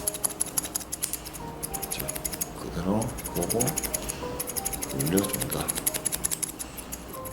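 Steel hair-cutting scissors snip repeatedly through hair using the side-scissor technique in a hair salon, a quick train of crisp clicks running under a man's speech.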